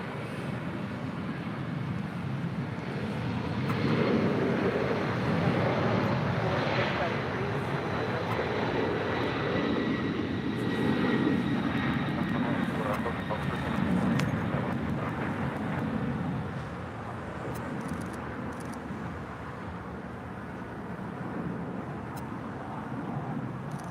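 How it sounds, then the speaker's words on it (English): A 31-year-old Delta Airlines Boeing 767-300ER jet departs LAX for JFK, a broad sustained engine roar swelling and holding for some fifteen seconds before easing to a lower rumble at a distance. "That is Delta Airlines 553 departing to JFK on a 31-year-old 767-300 ER."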